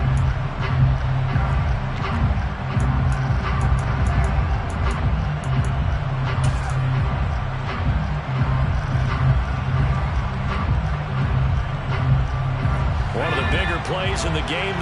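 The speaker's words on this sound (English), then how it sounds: "the crowd getting into it as we come up on a big 3rd down" A football stadium crowd roars steadily in the fourth quarter of a close NFL game ahead of a big third down, a dense continuous wash of noise with a commentator talking over it.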